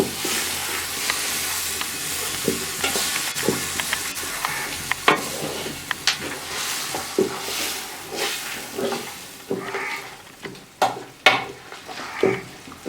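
Masala for a Kerala-style tapioca biryani is stirred in a pan, a soft sizzle running underneath irregular scrapes and clinks of the spoon against the pot, with no talking.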